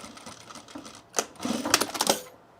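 A sewing machine stitches a seam on a fleece pullover, its needle whirring in short bursts, quiet at first and then louder, rapid runs near the end.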